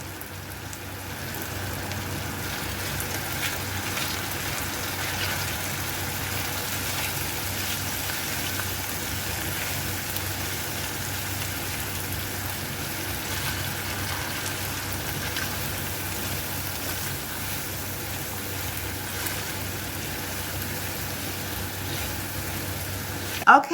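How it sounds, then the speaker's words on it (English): Food frying in a pan while being stirred for a country breakfast, a steady close sizzle and hiss like light rain that runs unbroken, with a small clatter at the very end. "Let me just kind of stir it around in the pan."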